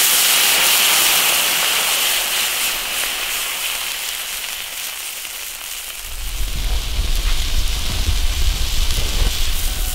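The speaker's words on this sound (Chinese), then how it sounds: "加开水" Boiling water poured into a hot wok of sizzling seasonings with scallions and peppers while cooking a spicy snakehead fish hotpot; a steady loud hissing sizzle swells into a heavier rushing pour in the second half, with no talk.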